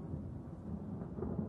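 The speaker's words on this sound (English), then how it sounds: "the noise of the storm rumbled overhead" A deep storm rumble rolls on without a break at moderate level, low and heavy, as thunder builds overhead in a dark room. No one is speaking.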